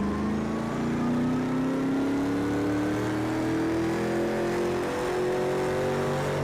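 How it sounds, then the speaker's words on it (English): An RTR car engine sound in a racing game mod revs up from low, with a loud, smooth drone climbing steadily in pitch over several seconds and no talk. "the RTR engine sound, I think this would be better as an RTR engine. Let's take it from low"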